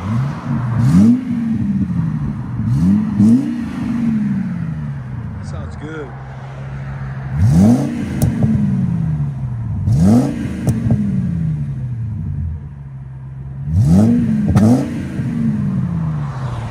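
A Ford Excursion with a 5.4L V8 and a Magnaflow or Flowmaster exhaust revs up in about six deep, close bursts, each rising and falling quickly, with people talking between them.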